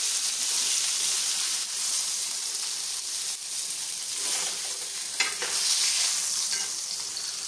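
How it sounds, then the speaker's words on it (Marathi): Bagda fish frying in a pan over low heat gives a steady, dense sizzle with faint crackles and pops throughout, unbroken and close by. "मंद आचेवर फ्राय होऊ द्यायचे।"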